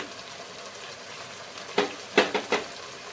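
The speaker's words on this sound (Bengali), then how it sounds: "এখন পাঁচ মিনিট মতো ভালো করে নেড়ে ছেড়ে নেব" Ginger paste and turmeric sizzle in hot oil in a pan for a fish curry with coconut milk, with a steady low fry under several clattering scrapes of a spoon stirring toward the end.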